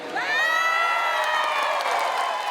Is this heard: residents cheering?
yes